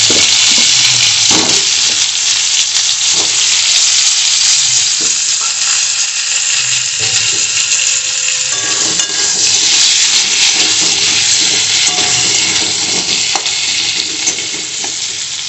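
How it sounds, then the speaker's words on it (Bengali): Potato pieces frying in oil in a pan for a Bengali prawn and pointed gourd curry, with a steady loud sizzle throughout and occasional stirring knocks. "এবার আমি ওই তেলেই আলুটা ভেজে নেব।"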